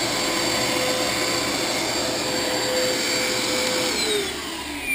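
A vacuum cleaner bought new for $44 runs steadily with strong suction, a loud continuous whining roar with a high tonal edge that holds throughout and dips slightly near the end.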